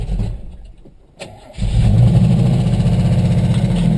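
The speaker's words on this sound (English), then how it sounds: "a cold start, it's actually kind of warm right now, but it fires, but you gotta help it a little bit before it'll idle properly" A modified 1990 Isuzu Trooper engine cranks and fires from a cold start, stumbles briefly, then catches and settles into a loud, steady, rumbling idle close by.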